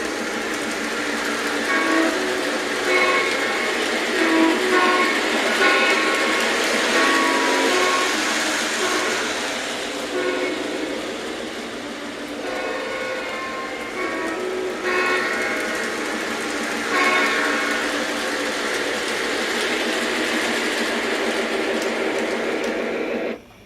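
An Atlas O scale BNSF Dash 8 model locomotive runs steadily on its track, a continuous close mechanical rumble and hum with occasional brighter tones, alone without talk.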